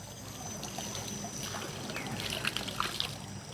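Water flows steadily along a canal, a close, continuous trickling and gurgling with brief splashy accents toward the end.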